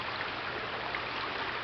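A strong river current runs high after rising water, giving a steady, broad rushing wash that stays even and moderately loud for the short span, with no voices.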